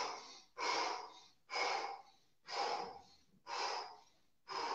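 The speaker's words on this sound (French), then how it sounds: "je ventile pour récupérer, respiration explosive" Explosive breathing to recover after exercise: five forceful, rhythmic breaths about one second apart, loud and close, each a sharp rushing exhale with short pauses between.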